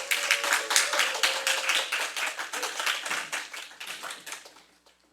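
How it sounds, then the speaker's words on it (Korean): A church congregation at a Sunday service claps to welcome a pastor, brisk close hand claps in a small room that keep a steady pace before thinning and fading out at the end. "나오실 때 우리 박수로 환영하도록 하겠습니다."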